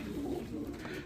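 A pigeon of about five years, brought from Karachi, coos softly in a low, steady murmur, close by and faint, with no voices.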